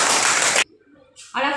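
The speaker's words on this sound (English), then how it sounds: "All of you clap your hands." Students in a school classroom clap their hands together in a dense, loud burst that stops abruptly after about half a second, followed by a short pause and then a voice.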